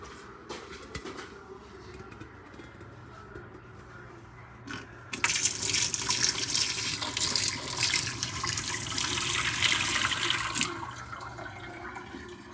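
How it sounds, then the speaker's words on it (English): Water pours out of a VEVOR machine into a sink as a loud, steady rushing gush that starts abruptly after quieter handling noises and runs for several seconds before easing off. "And now I'm going to drain this into my sink."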